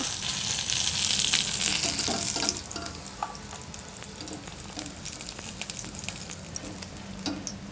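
Fish frying in oil makes a dense, close sizzle with crackling spatters, loudest at first and then settling to a steadier hiss dotted with small pops, heard without speech.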